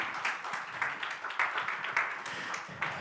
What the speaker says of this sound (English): Okay, one more big round of applause for Michelle.